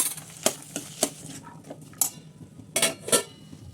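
A spoon scrapes and clinks against a pan as something fries lightly in oil, with a faint sizzle underneath and a series of sharp, irregular stirring knocks up close.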